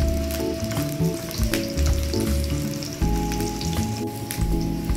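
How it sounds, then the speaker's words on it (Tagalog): Hotdogs sizzle steadily in a frying pan for breakfast, a continuous close crackle and spatter with small pops throughout, and no voice over it. "kalapit na maluto ang ating hotdog para sa ating breakfast"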